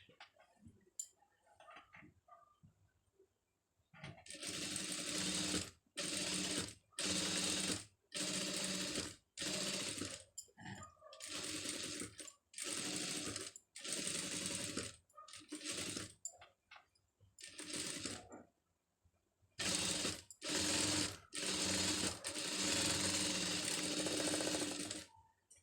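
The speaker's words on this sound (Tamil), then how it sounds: "இப்போ இதுலேயும் வந்து ஒரு தையல் வந்து நீட்டாக ஓட்டிடுங்க" A sewing machine stitching a pom pom design runs in loud, steady bursts of a few seconds each, its rapid needle clatter separated by short pauses and softer handling sounds.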